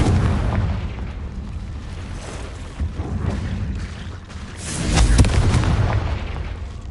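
Confringo fire spell explosion in the Hogwarts Legacy video game, a loud booming blast with a rolling, rumbling tail and a second swell of crackling burst sound, alone without speech.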